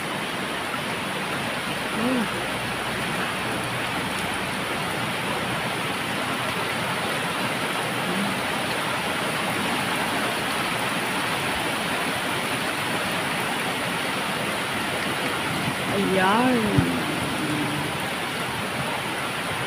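Steady rain pours down with wind in Taiwan, a dense, even hiss that holds throughout, with a brief voice speaking near the end.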